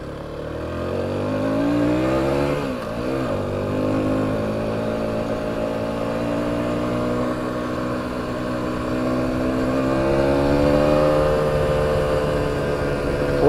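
A 2021 Aprilia SX125 supermoto motorcycle rides along a rocky gravel road, its single-cylinder engine droning steadily with shifting pitch, one brief dip and rise, plus wind and road rumble throughout.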